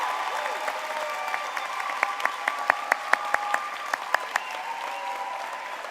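Applause at a high school commencement ceremony, a soft wash of many hands clapping with a few louder, distinct claps standing out nearby over the middle stretch before it settles back.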